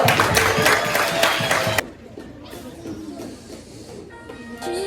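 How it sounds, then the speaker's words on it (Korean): Audience at a church Sunday school Christmas program in Jamsil 3-dong claps loudly and cheers for the first stage act, then the applause cuts off abruptly, leaving quiet room murmur. "뜨거운 박수로 맞이해주세요"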